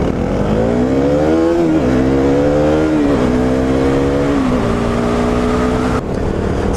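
A motorcycle rider at about 75 miles an hour hears a loud, steady rush of wind inside the helmet, with the engine rising and dipping through shifts underneath. The noise is close and continuous and ends with a brief thump.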